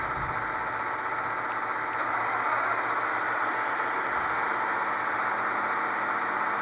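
A second model genset diesel locomotive engine on a Soundtraxx Tsunami 2 sound decoder runs with a constant rumbling drone, loud and unbroken throughout, with no voices.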